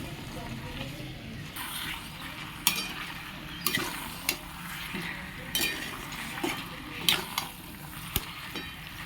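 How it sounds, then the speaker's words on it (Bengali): Fried soybean chunks are added to spiced potatoes and stirred in a pan: a low sizzle runs under repeated clinks and scrapes of a utensil against metal, and a voice is faintly present. "মশলার সঙ্গে আলু কষা হয়ে গেছে এইবার দিয়ে দেবো ভাজা সয়াবিনগুলো"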